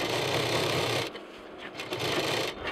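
Sewing machine stitching backpack fabric, a steady dense whir running loud for the first second, then dropping to a lighter, uneven mechanical hum with brief surges, close up and with no voices.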